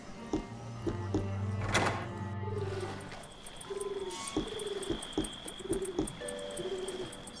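A wild pigeon in the game The Supper gives several soft, near coos in a short repeated sequence, following a low thud and a hum in the first seconds.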